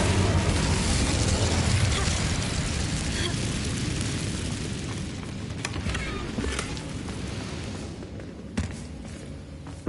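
A fire spell cast in a fantasy wizard action game bursts out loudly with roaring, explosive crackle, sustained over several seconds, then fading into scattered pops and a final sharp hit.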